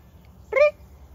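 A single short cat meow, close and clear, at an animal rescue over a quiet low background hum.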